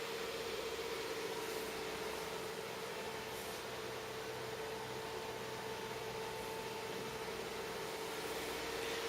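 Temperature-controlled cooling fans inside an X-Case RM 316 Pro rack chassis with a redundant power supply give a steady, even whoosh with a faint underlying hum throughout.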